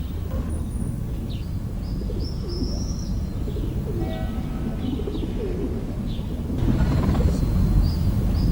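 Feral pigeons coo in Camden Square in London, with soft low cooing mixed with scattered higher bird chirps over a steady outdoor hum that grows a little louder near the end.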